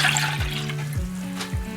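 Water runs steadily from a tap into a container for pickle brine made with kosher salt and sugar, a close continuous splashing stream with a few rising gurgling tones as it fills.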